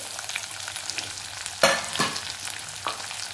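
Onion and tomato cooking in a pan, with a soft steady sizzle broken by a few loud scraping spatula strokes against the metal.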